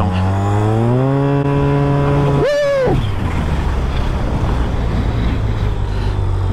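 Yamaha TMAX 530 turbo scooter accelerating hard, its engine note climbing steadily in pitch, briefly dropping at a shift, then rising again under heavy wind roar.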